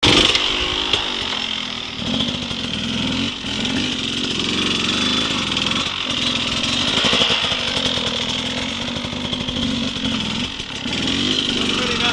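An off-road motorcycle engine drones steadily with a buzzy, high-revving note, its pitch rising and dipping slightly as the throttle changes under continuous wind noise.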